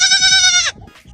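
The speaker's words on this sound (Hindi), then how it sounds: "उन चंद बकरियों के दीदार करना चाहोगे?" A goat gives one loud, close bleat lasting most of a second, then a brief quieter sound follows before near silence.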